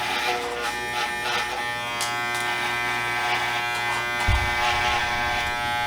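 An electric hair clipper cuts hair on a cosmetology mannequin, giving a close, steady buzzing drone with a rougher, heavier rasp near the end as the blades bite in.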